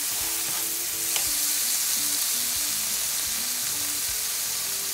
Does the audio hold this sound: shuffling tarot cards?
no